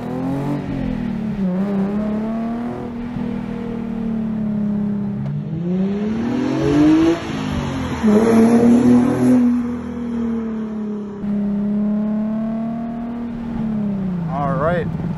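A mildly modded Nissan 370Z on a race track revs up and down in repeated rising and falling sweeps, loud and close from inside the car, with someone talking over the engine.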